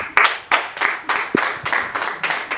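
A congregation claps during a church service praising the Lord. The clapping is loud and rhythmic, with about eight sharp, even strokes following one another closely.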